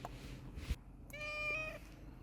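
A kitten lets out a short, thin, high meow against faint outdoor background noise on an abandoned island in Japan. It is heard once, nearby, and no one speaks.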